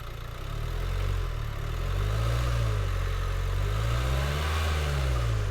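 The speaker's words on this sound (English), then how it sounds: "I just rev the accelerator" Nissan Qashqai 1.5 dCi diesel from 2017, with a low oil pressure fault, revving steadily, a deep droning engine note rising and falling slightly, close and continuous without speech.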